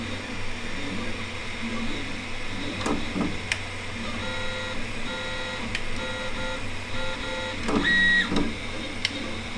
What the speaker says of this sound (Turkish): 3 boyutlu yazıcıların çalıştığı bir odada uyumak pek mümkün değil